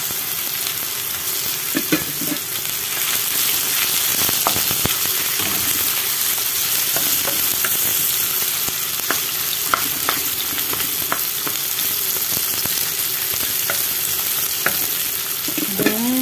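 Onions sizzling in a hot pan alongside ginger as they are stirred, a steady loud frying hiss with occasional scraping stir strokes, close and continuous with no talking.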